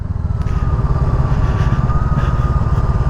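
A Honda Rebel 500 cruiser motorcycle engine idles close by with a steady, deep, rapid thumping rumble.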